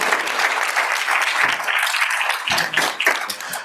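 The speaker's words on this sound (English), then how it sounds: "Let's give a round of applause for Brandon, please." Audience applause for a newly appointed human rights commissioner at an Ann Arbor event: a dense, steady wash of many hands clapping together, fairly loud and unbroken, with no talking.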